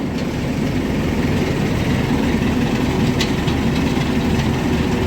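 A small Kirloskar four-cylinder engine runs loud and steady nearby, a constant low rumbling idle with no pauses or voices.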